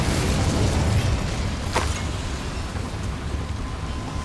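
An Incendio fire spell is cast in Hogwarts Legacy, a loud, roaring burst of flame that swells at once and then sustains as a broad, rushing blaze.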